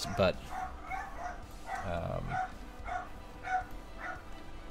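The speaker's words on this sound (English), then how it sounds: "they like to bark when they sense people." Dogs bark in a big house from downstairs, a run of muffled, repeated barks and yips spread through the clip, with a person talking over them.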